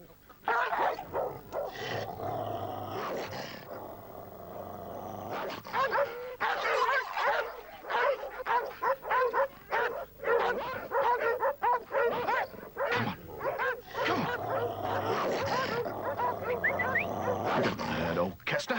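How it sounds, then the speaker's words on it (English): A dog barks in repeated bursts and yips, with whimpering between them, close and fairly loud amid people talking in an English rural drama setting. "Here's a dog you don't know"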